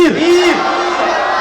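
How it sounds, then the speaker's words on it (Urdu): A crowd at an All India Ghause Azam religious conference in Mohali, Punjab roars a loud, sustained collective shout in answer to the Naara-e-Takbeer slogan, voices rising sharply and holding for over a second. "تمام تر حضرات حضرت کا استقبال کر لیں اور زوردار طریقے سے نعرے کا جواب دے"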